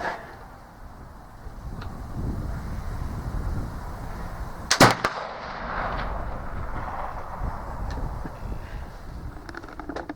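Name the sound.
Euroarms Kentucky flintlock rifle shot without a wad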